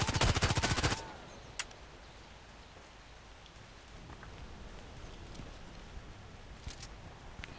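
A fast automatic burst of gunfire in the shooter game Contract Wars opens loud for about a second, then gives way to a quiet background with a few scattered faint shots.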